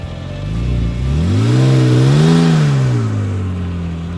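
A 2005 Porsche 911 Turbo S with stock exhaust accelerates, its engine note rising steadily then easing off, loud and close from inside the car with no one talking.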